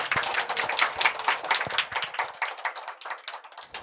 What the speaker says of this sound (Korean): 큰 박수로 같이 시작하겠습니다.